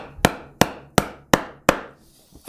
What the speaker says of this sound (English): put the chisel in the line, keep it perfectly vertical, and tap it down